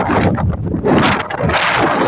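Loud, gusty wind buffets the microphone in a continuous roar, with brief dips between powerful blasts.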